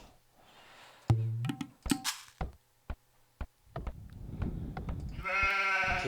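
Sheep in an Age of Empires match bleat in short harmonic calls at the start and end, with sharp in-game clicks, thunks and a rumbling pulse between them, all fairly close and clear.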